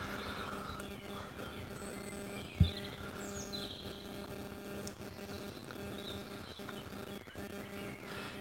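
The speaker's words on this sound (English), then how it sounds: "Look at the birds singing." Birds sing outdoors, faint chirps and short calls scattered over a soft, steady buzz of background noise, with one brief knock partway through.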